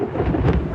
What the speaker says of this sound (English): right after I heard that cloud of ground lightning